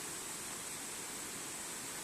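Steady, even rush of river water flowing near Balwant Nala on the Tansa, Shahapur, a continuous broadband hiss with no breaks or voices.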